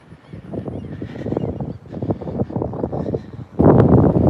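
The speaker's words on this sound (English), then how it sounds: "trying to keep my hand over the microphone" Outdoor wind buffets a handheld microphone near a picnic table, producing low rumbling gusts that rise and fall, with a sudden louder blast near the end.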